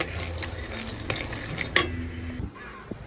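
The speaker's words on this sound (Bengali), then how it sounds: "কাঁচা বাদামগুলো শুকনো কড়াইতে একটু তেলে নিচ্ছি" Raw peanuts tossed in a wok with a little oil, a metal spatula scraping and clinking against the pan with a few sharp knocks, soft sizzle beneath, close and fairly loud.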